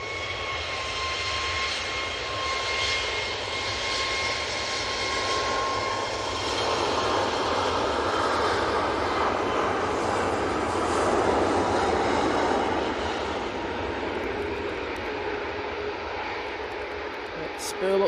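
Jet engines spool up at Manchester Airport, a steady, loud, broadband roar with faint whining tones that holds at an even level throughout, heard from a spotting position with no nearby talk.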